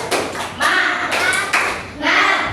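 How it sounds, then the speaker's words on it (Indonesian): A primary-school class performs the rhythmic 'tepuk semangat' spirit clap, a few bursts of group clapping mixed with children's chanting voices, close and lively. "Tepuk semangat."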